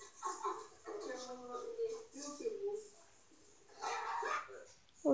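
A dog gives a string of short barks and whimpering yips, close and fairly loud, with human voices mixed in around it.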